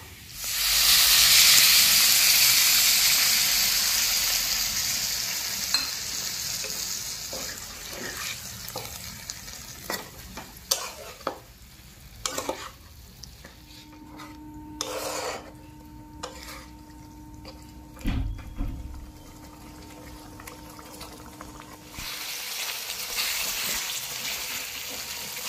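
Water poured into a pan of sizzling chicken gizzard masala, giving a loud rush of hissing steam that slowly fades into a softer simmer broken by sharp clinks and scrapes from a spoon.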